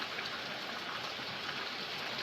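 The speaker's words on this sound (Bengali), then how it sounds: "বাহিরে প্রচুর ঝড় বৃষ্টি" Heavy rain pours steadily outside during a storm, a dense, even hiss of falling water that continues unbroken and with no voices.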